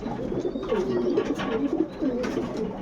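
Young pigeons coo in a pigeon loft, a soft, close, continuous burbling with repeated low coos that overlap one another.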